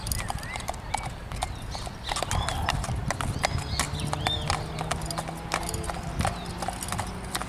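A calm bay horse clip-clops along asphalt in a steady, close walking rhythm, its hoof strikes sharp and regular over a low background rumble, with faint bird chirps above.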